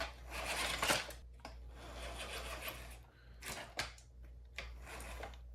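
Small SCX-10 RC crawler with a 3S battery driving around, quiet whirring motor and gear clatter with scattered clicks and bumps, close by and faint.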